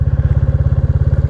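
Modified 350 single-cylinder motorcycle engine pulling in first gear, a loud, close, rapid even thumping exhaust beat throughout, no voices.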